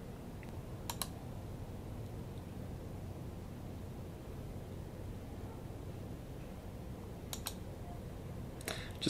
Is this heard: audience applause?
no